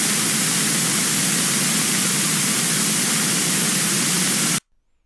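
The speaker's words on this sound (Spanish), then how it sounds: "El ruido blanco suena de esta forma." A white noise test signal used for acoustic measurement plays as a steady, loud, broadband hiss for about four and a half seconds, then cuts off abruptly into silence.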